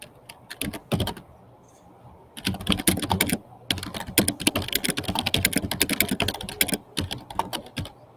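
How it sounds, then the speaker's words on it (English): Rapid computer keyboard typing in bursts, close and crisp, with a few short pauses between flurries of keystrokes. "frantically typing away"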